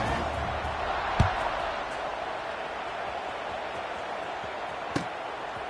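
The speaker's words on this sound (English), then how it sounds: "this crowd is buzzing after that last score" A football stadium crowd buzzes after a late score ties the game: a steady, dense murmur of many voices, with two sharp thumps cutting through at separate moments.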